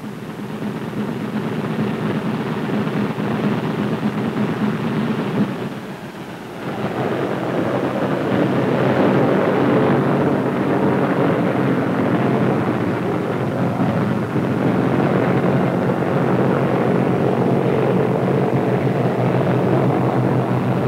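Four-engine B-17 bomber radial engines roar loudly and steadily on the ground at about 1,000 rpm before shutdown, a dense droning rumble with a brief dip around five seconds, no voices.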